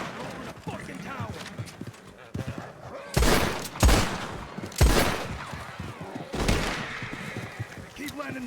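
Gunfire in a Wild West roleplay game, WildRP, a handful of loud sharp shots in bursts with a short volley near the middle, heard over a steady rustling background with talk under it.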